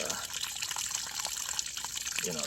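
Water flows steadily, a continuous rushing gush like running from a pipe or tap, close and even throughout.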